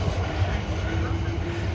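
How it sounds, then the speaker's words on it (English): Train arriving at a station, heard as a steady, dense rumble with faint high squeal, continuous and moderately loud without distinct pauses. "Our train should be here any moment"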